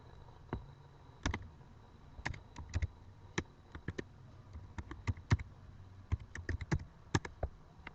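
Keystrokes on a computer keyboard as an email address is entered into an online arrival form, heard as irregular close clicks in quick clusters and short pauses over a quiet background.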